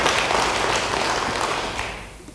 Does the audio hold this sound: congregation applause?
yes